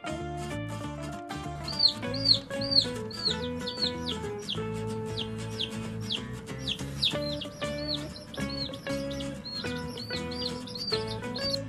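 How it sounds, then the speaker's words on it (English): High, quick chick peeps repeat in little rising-falling bursts over a steady musical backing. "Chick."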